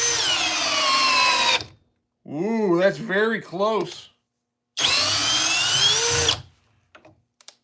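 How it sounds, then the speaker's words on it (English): A cordless drill with a 2 amp-hour battery runs at speed 2 in drill mode, boring into wood in two loud sustained bursts of steady whine, with someone talking briefly between them. "Speed 2 in drill mode."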